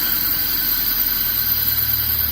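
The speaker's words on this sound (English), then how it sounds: "I got the engine idling at about 725, whatever, which is very nice." A 1974 Alfa Romeo engine idles steadily at about 725 rpm with a low, even rumble, running alone without any voices.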